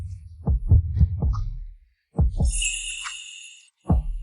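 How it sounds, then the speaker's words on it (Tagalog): Heartbeat thumping in repeated lub-dub pairs, loud and close, with a short pause between groups and a brief high airy sound over the middle. "Naririnig mo ba ang tibok ng puso ko?"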